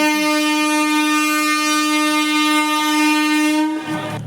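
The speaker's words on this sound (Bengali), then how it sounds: "প করে ট্রেনটা কিন্তু ছেড়ে দিল" A train horn blows in one long, loud, steady blast close by as the train pulls out of a station beside the Ganges in West Bengal, cutting off abruptly near the end, with no talk.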